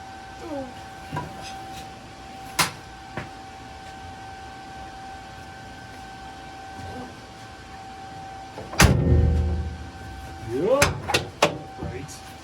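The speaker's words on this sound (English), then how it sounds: "I wonder if the door still closes." A BMW Z3 car door shuts with a solid thud amid scattered clicks and knocks, followed by some rattling and clunking.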